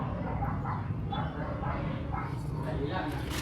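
A dog barks and yips several times during a house-to-house anti-rabies vaccination drive in a barangay, the calls scattered under steady background noise while people talk nearby.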